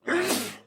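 One sharp human sneeze, a sudden close burst that trails off within a second.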